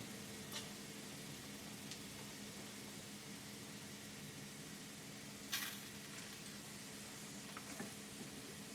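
Chilaquiles dipped in egg yolk deep-fry in a pan with a soft, steady sizzle, broken by a few faint crackles and one sharper pop midway.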